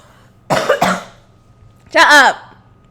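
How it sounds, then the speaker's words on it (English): Two separate coughs, the first a rough double burst, the second a strained, voiced cough after a short pause, close and fairly loud. "I'm so sorry, I'm coughing."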